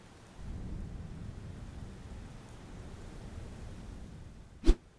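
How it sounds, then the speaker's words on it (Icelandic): A thunderstorm with steady rain hisses as a low rumble for several seconds, then a sharp, close thunder crack bursts out near the end; no one speaks. "Sums staðar fer óveður að vera algengara."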